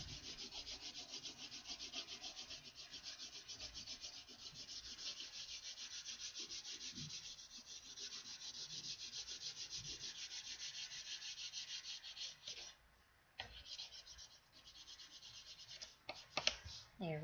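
Crayon strokes rubbing steadily across paper, a close, continuous scratchy friction with a short pause and a few sharper scrapes near the end.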